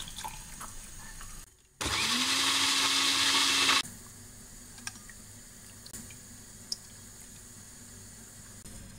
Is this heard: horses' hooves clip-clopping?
no